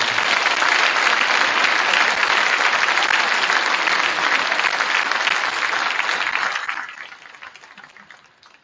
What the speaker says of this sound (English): Let's give a round of applause for our seniors.